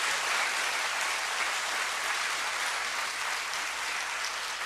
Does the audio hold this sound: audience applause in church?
yes